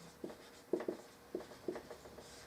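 Chalk or marker writing on a board during a calculus lesson on derivatives: several short, soft scratchy strokes in an uneven rhythm, close but faint, with no talking.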